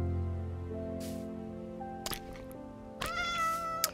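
A cat in Minecraft, a breed not seen before, lets out a few short meows, the clearest near the end, each a brief, fairly close cry amid quiet game sounds.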